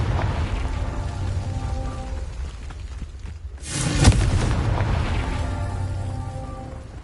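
A Confringo blasting spell goes off in Hogwarts Legacy, one sharp booming blast partway through, set against steady rain-like game ambience and hiss that swells afterward.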